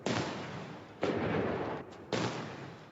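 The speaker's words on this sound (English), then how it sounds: "A 100-cannon salute kicked things off Thursday at Tiananmen Square in Beijing." Cannon fire from a 100-gun salute at Tiananmen Square in Beijing: three heavy, evenly spaced booms about a second apart, each decaying into a long rolling echo, with no voices.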